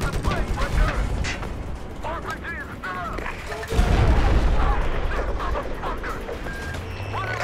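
Tank cannon fire in the Battlefield 4 video game as an enemy tank is destroyed: a heavy boom lands midway amid rumbling engine and mechanical battle noise, loud and close.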